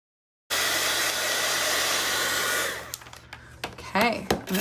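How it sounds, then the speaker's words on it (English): A heat embossing gun blows hot air onto cardstock to dry it, a loud steady whir that runs for a couple of seconds, then stops and leaves small handling taps and a brief voice. "So I'm just going to heat emboss it real quick. Make sure it gets dry so I can glue it down."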